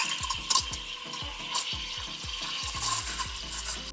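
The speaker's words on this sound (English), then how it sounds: "when you hear that noise, you know that you're aerating right" An espresso machine steam wand aerates milk in a pitcher, giving a rapid, rhythmic series of chirping, sucking hisses over a steady airy steam roar, close and moderately quiet.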